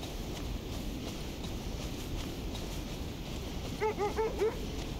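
Dogs in the video game Kona II Brume give a short burst of four or five barks near the end, fairly distant, over a constant wind-like ambient drone.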